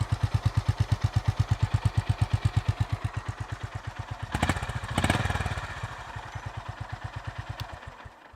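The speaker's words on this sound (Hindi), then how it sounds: "अभी आपको इसका एग्जॉस्ट साउंड सुनाता हूँ। इसका आइडल साउंड भी काफ़ी अच्छा है," A Honda Highness CB 350 motorcycle idles close by with a steady, even, deep exhaust thump, briefly revved twice in the middle before settling back into its regular beat.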